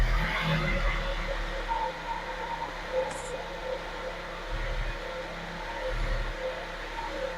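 A flood-damaged car's engine holds a steady elevated idle after a throttle blip, a low continuous hum with faint rumble, fairly close and even throughout, with no talking.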